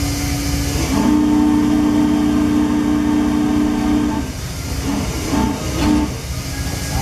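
A model train whistle blows a sustained, steady note for about three seconds over a constant hiss, followed by several short whistle toots, close and loud.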